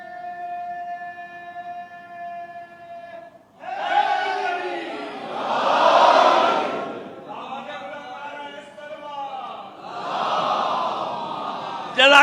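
A majlis audience in an imambargah chanting religious slogans in unison, swelling crowd voices rising and falling in several loud waves, with a sustained tonal voice leading at the start.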